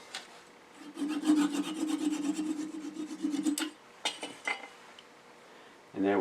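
A turned wooden apple is sawn off at a 45-degree angle by hand, giving a steady rasping saw stroke that runs for several seconds, then a few short strokes and a final scrape, loud and close with no talking.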